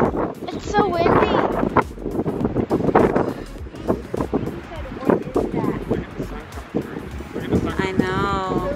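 Gusty wind buffets the microphone with a steady low roar while several people talk over it.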